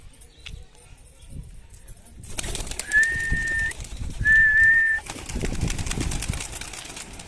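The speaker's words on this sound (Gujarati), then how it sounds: "કુકડા જેવું કબૂતર છે" A pigeon gives two drawn-out whistling coos close by, over rustling background noise after a quieter start.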